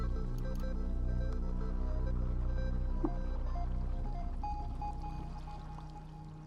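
Steady pouring of water in the video game Caves of Qud, a continuous broad wash that holds evenly and tapers off toward the end, with no talk over it.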